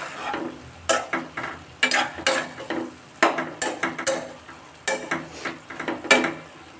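Lentils and taro stolons get stirred in a pot, a series of close, uneven scraping strokes of a spoon against the pot, each burst short and separated by quiet gaps, with light sizzling underneath.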